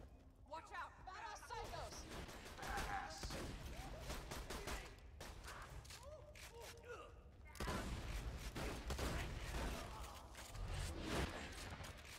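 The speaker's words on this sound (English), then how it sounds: "I'm just appreciating her showing up and exploding things." Gunfire and explosions from the video game Borderlands 2, with repeated sharp bursts and blasts running throughout under steady talking from players.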